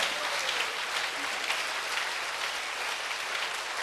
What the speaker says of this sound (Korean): 박수로 주님께 영광 돌립니다.